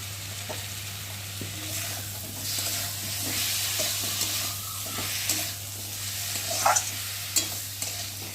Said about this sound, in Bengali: চলো কষিয়ে নিই।